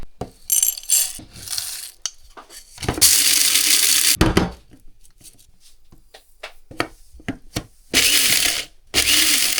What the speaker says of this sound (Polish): Pieprz oraz kminek, choć kminek to tak lekciutko, zostanie zaraz razem z czosnkiem rozdrobnione w mikserze do przypraw